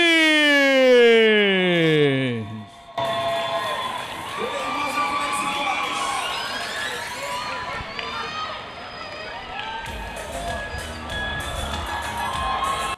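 A karate event crowd cheers and applauds as fighter Rafael Mendes is introduced, following a rising siren-like sweep; loud shouting and clapping continue throughout with an announcer's voice over the noise.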